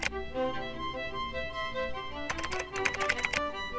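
Keys clatter on a computer keyboard running Windows, a short quick burst of keystrokes near the end over a steady tonal background hum.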